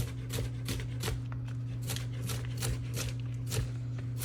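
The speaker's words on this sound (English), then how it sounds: "you're just gonna turn all those strips on their side and give it a good dice" A knife dicing strips of poblano pepper on a cutting board, steady rapid close taps with a constant low hum underneath.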